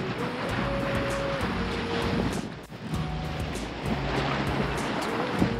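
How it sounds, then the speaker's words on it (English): Indian Ocean waves washing onto an Australian shore, a steady broadband roar of surf mixed with wind noise on the microphone and faint low tonal hum, continuous and fairly loud throughout with a brief dip midway. "With the Indian Ocean lapping onto our shores"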